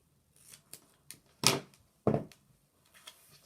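Scissors snip through duct tape at close range in a quiet room, with several faint clicks and two louder, crisp cuts about half a second apart.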